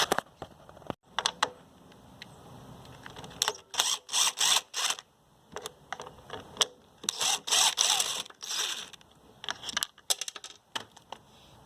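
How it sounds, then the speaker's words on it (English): Bolts are unscrewed from the cover plate of a Yard Machine 550 EX push mower with a ratchet, giving close, loud bursts of rapid clicking and metallic ratcheting separated by short pauses, with no talking. "So we'll back those out, take this cover plate off."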